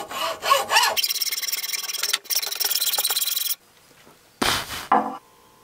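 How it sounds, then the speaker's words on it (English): A hacksaw cutting a shallow groove into a piece of wood: close, loud rasping strokes in a steady back-and-forth rhythm, a brief pause, then a few shorter strokes toward the end, with no talking. "take your hacksaw and cut a groove in the wood about 1/8 of an inch deep"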